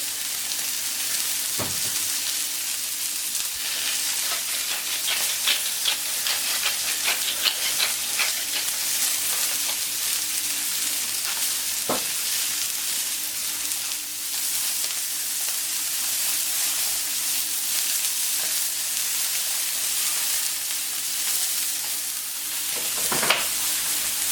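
Hanger steak frying in a pan gives a steady, close, even sizzle that lasts the whole time, broken by a few sharp ticks and taps, with no voices.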